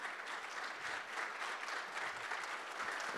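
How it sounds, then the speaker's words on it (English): A congregation clapping hands during a Sunday church service, with dense, continuous applause that is fairly even and sustained across the whole clip, heard from within the crowd. "जोरदार टाळ्या वाजवा ना हो."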